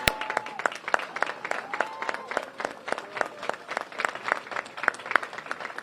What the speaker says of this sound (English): Can we all stand up and give her a round of applause?